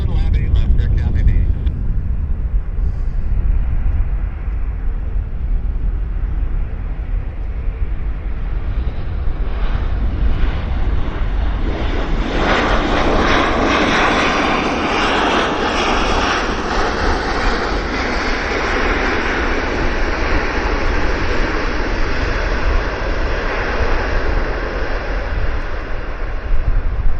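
An airplane on short final landing at Vancouver Airport, its engine roar loud and continuous, swelling into a broad rushing thunder as it passes close.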